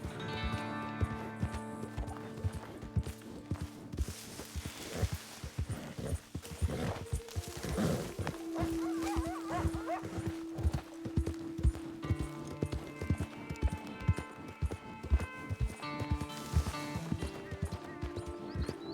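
Horse hooves clip-clop in a steady walking rhythm in Red Dead Redemption 2, close and clear, while someone talks over them and a tonal hum sits underneath.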